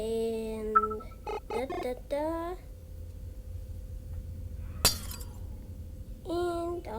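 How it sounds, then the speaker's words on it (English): A single sharp crash of breaking glass rings out in a video game, brief and bright amid quiet, with a cartoonish voice speaking before and after it. "and all the glass is broken."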